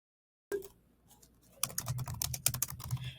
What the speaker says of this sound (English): your job is to just start typing